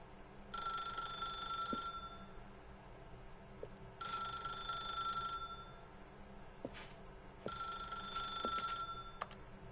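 A telephone rings in three long bursts with pauses in between, the bell tone clear over a steady background hum and occasional faint clicks.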